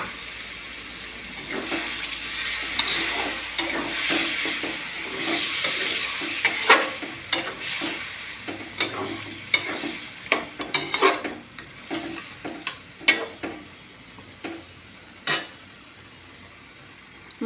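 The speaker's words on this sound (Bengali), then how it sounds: "মাটনটিকে আমি এইভাবে কষে নিচ্ছি" Mutton being stir-fried with spices and a splash of water, a soft bubbling sizzle under a run of sharp scraping and clanking strokes from stirring in the pot.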